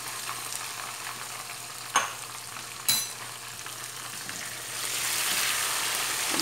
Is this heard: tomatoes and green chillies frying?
yes